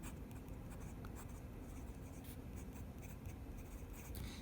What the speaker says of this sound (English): let me just give you a quick writing sample of Jinhao X750